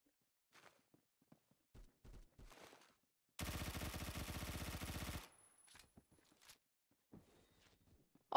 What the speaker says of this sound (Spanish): ¿Quién está tirando tiros?